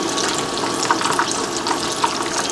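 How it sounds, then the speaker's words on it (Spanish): Mini cordon bleu frying in hot oil at 350 degrees, a steady, dense sizzle and bubbling that fills the clip, with small crackles and pops breaking through now and then. "Estoy friendo a 350 grados."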